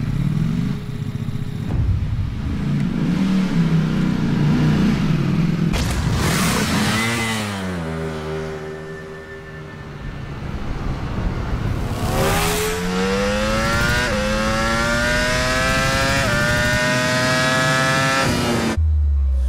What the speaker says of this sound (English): What you just heard was the new sound of the V4 Panigale racing by at nearly 200 miles per hour